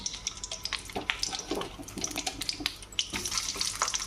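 Bitter gourd pieces sizzle and spit in hot oil in a pan while being fried, a dense steady crackle with brief louder spatters throughout, close and alone.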